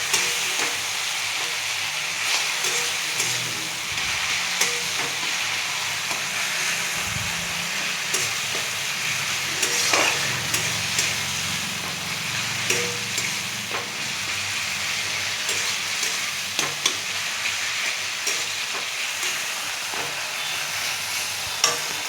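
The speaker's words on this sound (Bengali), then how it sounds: "টমেটো আমার ভাজা হয়ে গেছে" Tomatoes fry in a pan with a continuous sizzle, while a spatula stirs with occasional scrapes and taps, steady and close throughout, with no talking.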